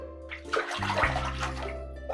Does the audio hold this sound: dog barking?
no